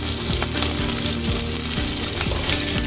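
Mustard seeds and urad dal crackle and splutter steadily in hot oil in a pan, a dense, loud, continuous sizzle with close popping throughout, no voices.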